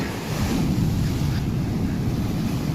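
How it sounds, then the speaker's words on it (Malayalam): Sea waves surge onto the shore at a fishing spot in a steady, full roar of surf, with wind buffeting the microphone throughout. "തിര അടിച്ച് കയറുന്നുണ്ട്"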